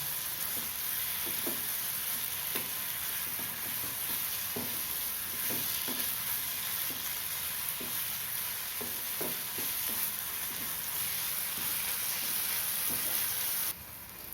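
Masala paste for a spicy potato fry sizzles steadily in hot oil as the oil separates, with a spoon or spatula scraping the pan in irregular strokes throughout; close and continuous, no talking.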